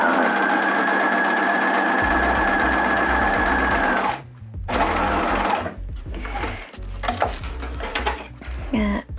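A sewing machine, starting with a reverse stitch, whirs loudly and close as it stitches fabric for about four seconds. It is followed by shorter bursts of stitching and clunky handling noises.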